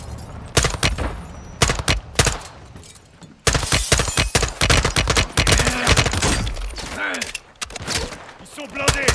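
Heavy gunfire from a Call of Duty: Modern Warfare 2 campaign battle, loud rapid automatic bursts and shots crowding one another with brief pauses, mechanical clatter mixed in, and a voice speaking at times beneath the shooting.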